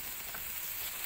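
Seasoning paste for arem-arem sizzling steadily in a little cooking oil in a pan, a close, even crackling hiss with no talk.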